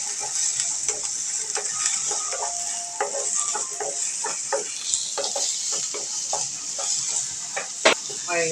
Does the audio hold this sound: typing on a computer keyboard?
no